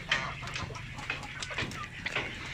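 Chickens cluck in short, irregular calls inside a chicken house where birds kept for slaughter are held, moderately near over a low background hum.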